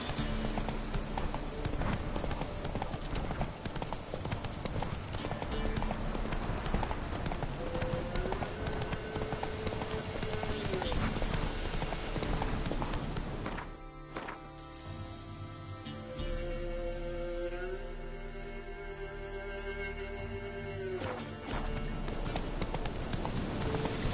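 Roach the horse's hooves in The Witcher 3 clip-clop in a steady gallop rhythm, loud and continuous, easing briefly mid-way before resuming, with music and a voice speaking over the hoofbeats.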